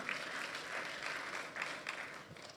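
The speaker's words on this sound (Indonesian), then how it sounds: "Yang percaya kita tepuk tangan yang paling meriah bagi dia." A church congregation claps briefly and vigorously at a sermon, a dense, steady burst of applause filling a large room.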